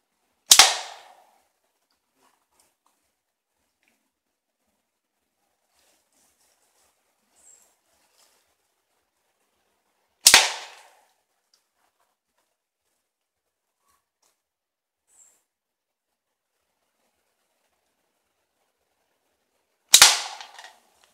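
Slingshot shots fired outdoors, three sharp, loud cracks spaced about ten seconds apart, each followed by quiet, with no talking.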